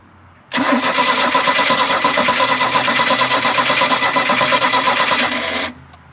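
A cammed boat engine cranks and fires up, then settles into a loud, choppy, rhythmic idle for about five seconds before cutting off abruptly.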